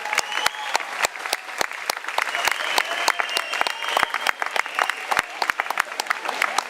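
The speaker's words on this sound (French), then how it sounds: "on peut les applaudir, ouais, on peut les applaudir." An audience at an outdoor evening show at Pont du Las in Toulon claps steadily for a band. The applause is dense and sustained, with sharp individual claps standing out near the microphone.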